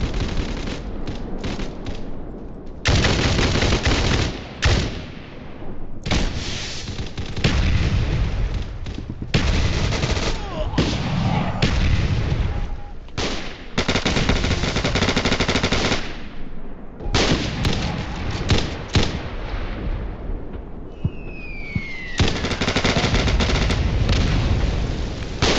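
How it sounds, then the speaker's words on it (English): Artillery bombardment in the Roblox game Scorched Earth: dense, loud bursts of rapid firing and booming blasts in long stretches broken by short silent gaps, with no talk. "They're artillery bombing us."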